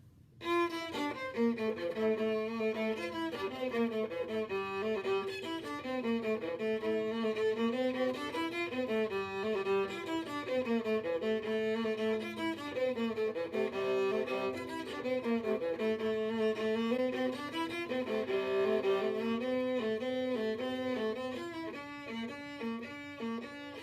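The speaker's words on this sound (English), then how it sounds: "The viola is lower sounding, and you're going to hear that with the song that I play." A solo viola melody, warm and fairly low, flowing in continuous legato phrases with steady loudness throughout, no voices.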